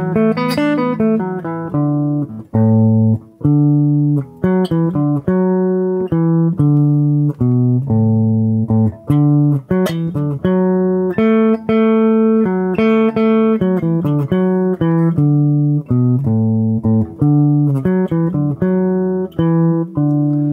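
A single guitar picks out a slow, simple pentatonic melody in D, one clear note at a time, close and fairly loud with no other sounds.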